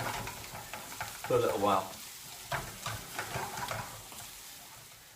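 A beef stroganoff base with smoked paprika cooks in a pan, giving a faint, steady sizzle with light stirring scrapes, briefly under a voice.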